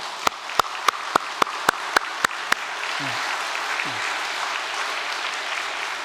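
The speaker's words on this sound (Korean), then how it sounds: "우리 박수로 감사를 표하십시다." Applause in a church gathering starts as about nine single, evenly spaced claps, then swells into a continuous hiss of many hands clapping that holds steady at moderate loudness.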